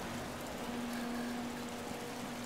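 Rain falls during a race in the Project CARS driving game, an even, unbroken hiss of moderate loudness with a faint steady tone running beneath it.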